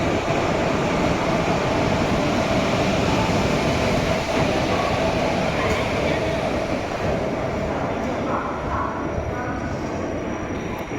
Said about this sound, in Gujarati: હાલો ટ્રેન આવી ગઈ અમારી ભાઈ જુનાગઢ વાળી